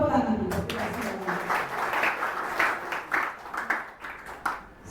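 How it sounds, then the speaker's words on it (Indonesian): Audience clapping at a graduation thanksgiving ceremony for PKBM Widyatama, a dense steady patter of many hands mixed with voices and chatter, fairly close and sustained throughout. "Tepuk tangan."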